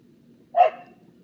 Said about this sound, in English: Got the dogs out here.